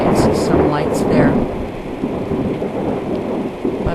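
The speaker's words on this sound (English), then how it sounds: "Still coming down in just sheets of rain." Heavy rain pours down in sheets during a tornado storm, with thunder rumbling loudly near the start and a dense, steady roar of rainfall continuing throughout.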